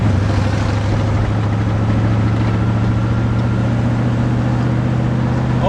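A Pontiac 461 stroker V8 in a 1977 Trans Am runs steadily, its low, loud, continuous rumble holding an even idle-like drone throughout with no talk.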